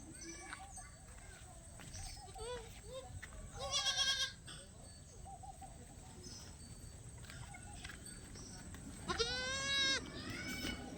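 Young goat kids in a farm pen bleat loudly twice, a wavering cry early on and another near the end, over low background chatter and rustling.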